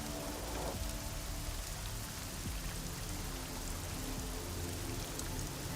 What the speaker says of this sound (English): just look at the raindrops on the armor